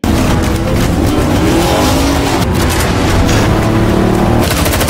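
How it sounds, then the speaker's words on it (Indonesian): Racing car engines roar loudly and continuously in a movie car chase, with tires squealing and skidding as vehicles tear past at high speed. "Aksi kejar-kejaran mobil epik pun terjadi."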